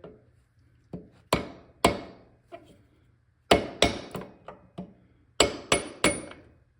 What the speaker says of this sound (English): we're just gonna do the old turn the hammer around trick